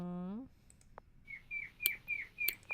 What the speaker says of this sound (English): That's just a toad ribbiting.